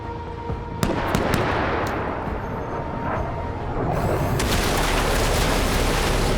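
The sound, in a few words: plasma shot firing in a video game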